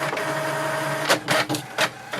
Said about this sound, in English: it will send a command for the printer to print the printer information page